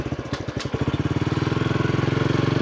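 A Honda CT125 motorcycle pulls away from a stop, its small single-cylinder engine settling into a fast, even, pulsing putter, close and loud, with a few harder clunks at the start.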